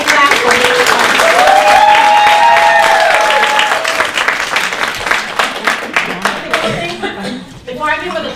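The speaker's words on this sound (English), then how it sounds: "We got to give a big hand clap" Audience hand clapping breaks out at a Transform 100 event, starting under a sung or sustained voice and growing into rhythmic applause from a crowd, with a voice briefly speaking near the end.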